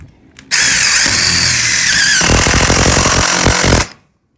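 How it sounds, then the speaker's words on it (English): A self-tapping screw is driven with a power driver into a new roof purlin while a rusty tin roof is replaced, giving a loud, steady whine of about three seconds that turns rougher and juddering near the end before stopping abruptly. "When I put the screw in, it's a self-tapping screw."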